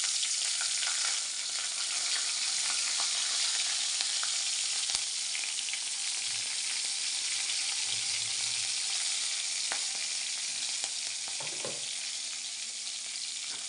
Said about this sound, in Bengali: এবার আমি এখানে কালো জিরা আর কাঁচা লঙ্কা ফোড়ন দেব।